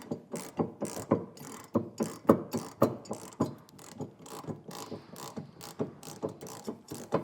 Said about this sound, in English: Now we can tighten that bolt down with a 15/16 inch socket.